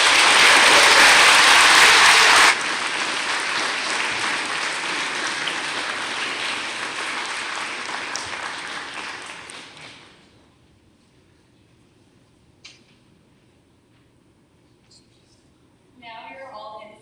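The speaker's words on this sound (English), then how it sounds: "Audience, can we please have a round of applause for our seniors?" A school audience applauds seniors at a National Honor Society induction, a dense, loud burst of clapping that thins and fades over several seconds into near silence, followed by a faint rustle.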